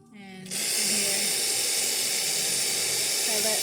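A Pasquini Livia espresso machine's steam wand opens with a sudden loud, continuous hiss that stays steady after a brief quieter moment.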